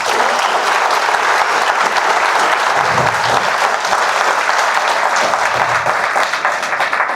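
A church congregation applauding at a sermon: dense, sustained clapping from many hands filling the room, loud and steady throughout with no talk over it.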